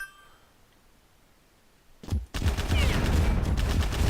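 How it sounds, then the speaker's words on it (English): A dual-shot rifle firing two shots at once in the video game Heads Up: Bad Bots: near quiet at first, then a sharp crack and a dense, sustained rattle of shots, close and loud. "It's just a rifle, but it fires 2 shots at once, which makes it pretty cool."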